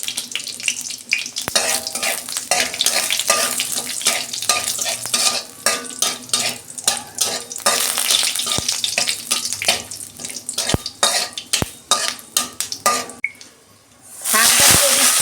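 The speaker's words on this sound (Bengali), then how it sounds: "ফোড়নে একটা শুকনো লঙ্কা দিচ্ছি, পাঁচফোড়ন দিচ্ছি অল্প," A dried red chilli and panch phoron crackle in hot oil with scraping stirring strokes and sharp pops, ending in a louder hiss as something is added.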